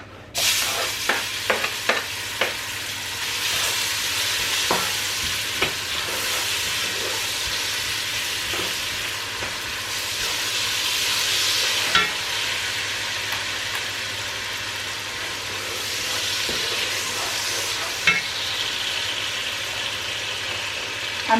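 Chopped onions sizzle and fry steadily in a salted pot for a large family meal, a continuous broad hiss with scattered stirring clicks and scrapes throughout.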